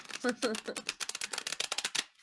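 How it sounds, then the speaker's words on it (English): A True Black Tarot card deck is shuffled close up in quick rapid bursts of riffling and tapping that stop abruptly at the end, with speech mixed in. "It's a very pretty deck, one of my favorites, but not incredibly easy to shuffle."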